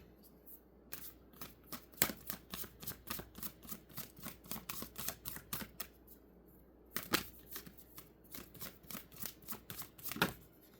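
Playing cards are riffled and shuffled repeatedly up close, crisp rapid flicks in bursts with a brief pause midway, no voices.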